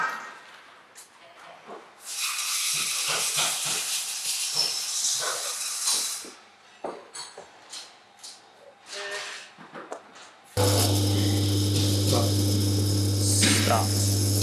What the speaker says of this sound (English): Perfect, now we can start a weld.